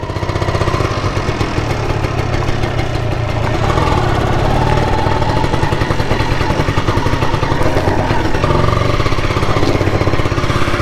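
A Yamaha TZR125 two-stroke motorcycle runs right after its first kick start from dead cold, its crisp, buzzing engine loud and steady at close range, with no talk over it.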